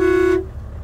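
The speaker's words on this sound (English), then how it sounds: "Got the small horn here, and then the big horn." Volvo VNR semi truck horn, a single steady, loud tonal blast heard close up, cutting off abruptly with idling engine rumble underneath.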